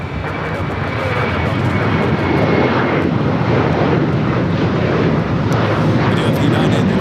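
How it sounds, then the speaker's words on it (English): An ANA airliner begins its takeoff roll on the north runway at Los Angeles International Airport, a loud continuous jet engine roar that builds and holds for several seconds, with faint voices underneath. "we do have ANA 125 about to start rolling on the north."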